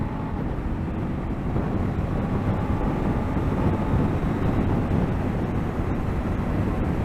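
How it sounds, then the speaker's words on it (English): A 2024 Honda SCL500 motorcycle engine pulls hard at wide open throttle, a steady, loud rumble heard from the rider's position and mixed with buffeting wind noise. "There we go, wide open throttle."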